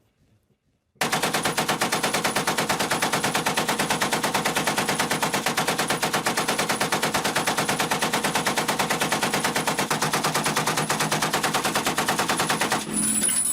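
Two M1919 machine guns chambered in .30-06, mounted low on a Sherman tank, fire one long continuous burst of rapid, loud, evenly spaced shots for about twelve seconds after a brief quiet start.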